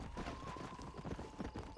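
Horse hooves gallop in the Red Dead Redemption 2 video game, a rapid, fairly loud clip-clop rhythm with a steady background tone beneath.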